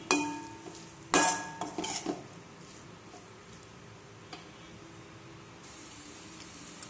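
Egg rice is stirred in a pan with a metal spoon, starting with a few sharp clinks and scrapes, then settling into a faint, steady sizzle with occasional soft stirring sounds.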